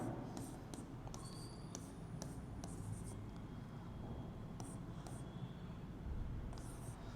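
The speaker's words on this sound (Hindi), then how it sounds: "अगर मैं लिखता हूँ यहाँ पे" Chalk or marker strokes on a classroom board during a reasoning lesson, a run of short scratchy taps and strokes in steady rhythm over a low room hum, fairly close and moderately quiet, with no talking.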